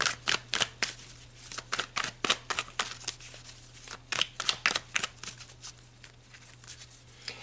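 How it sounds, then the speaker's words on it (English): Tarot cards being shuffled and drawn during a Libra love reading: a long run of crisp, close riffling snaps and flicks in uneven bursts over a steady low hum, with no talk. "So let's pull 3 more cards."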